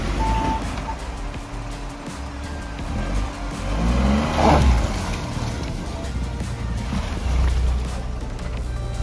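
A Tata Nexon car pulls out on a hillside road in Uttarakhand, its engine humming and then revving louder midway, with faint beeping and background noise around it.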